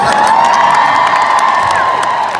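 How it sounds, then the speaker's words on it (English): An audience at a drag panel in 2018 cheers and whoops in a steady, loud roar that fills the room from start to finish. "The crowd goes wild."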